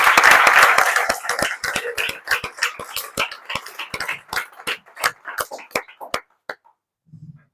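Audience applause after a tech talk on artificial intelligence, starting as dense clapping and thinning to a few scattered claps before falling silent.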